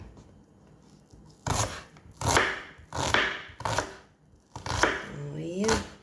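Onions being chopped with a knife on a cutting board, a series of distinct crisp chops in uneven rhythm, close and fairly loud, with a faint voice near the end.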